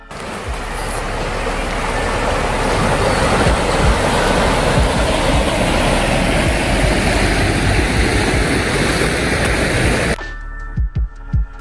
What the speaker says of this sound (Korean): 그럼 영상으로 시원한 계곡물 소리 한번 들어보시죠